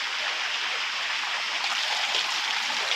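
Heavy rain pours steadily in Ratnagiri during a cloudburst-like downpour, a dense, loud, continuous hiss that holds evenly throughout with no voices.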